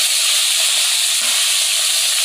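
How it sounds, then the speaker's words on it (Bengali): Fish shallow-frying in a pan on a home stove, a steady close hissing sizzle that holds evenly throughout with no voices. "আমি মাছ ভাজির জন্য চুলার উপরে দিয়ে দিচ্ছি"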